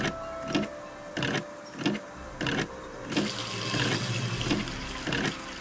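Water gushing from a tap in the Nancy Drew video game Ghost Dogs of Moon Lake, preceded by a series of rhythmic mechanical clunks, then a steady running flow.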